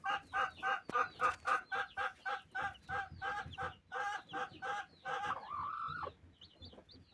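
Newly hatched chicks peep in a steady, rapid run of loud chirps close by, with brief squawks and faint rustling beneath, ending on a drawn-out cheep and a few softer peeps.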